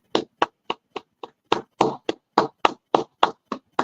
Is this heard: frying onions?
no